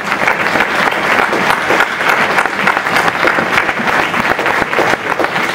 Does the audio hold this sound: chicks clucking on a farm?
no